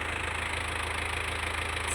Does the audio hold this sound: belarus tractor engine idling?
yes